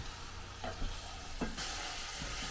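Pancetta sizzles and fries in a pan, a soft steady crackle with a few scraping stirs of the spoon, fairly quiet and close, with no talk.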